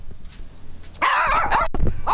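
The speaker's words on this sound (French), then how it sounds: "Oh le petit chien" A small dog barks and yips close by in a busy outdoor setting in Bali, a run of high, excited calls following a quieter stretch of background noise.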